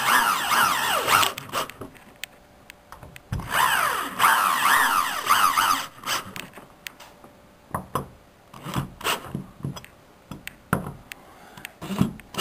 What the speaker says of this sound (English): you run the screws back into the wall